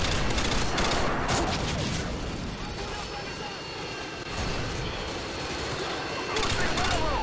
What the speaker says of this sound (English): Man, I forgot how good the FAMAS was.